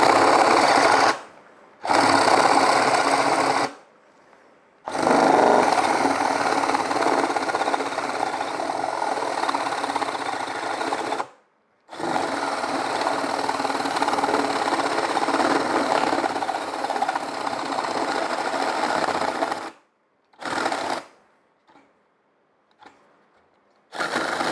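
Ryobi 18V brushless cordless compact right angle drill boring with a 1.5-inch paddle bit into clamped wood, loud whirring bursts that stop and restart several times, some bogging and jamming, separated by short silences.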